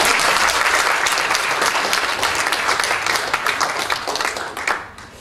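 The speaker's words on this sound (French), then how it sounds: "Merci, merci, on peut vous applaudir." A hall audience at a Chamonix evening event gives sustained, dense applause that holds steady and then tapers off in the final second.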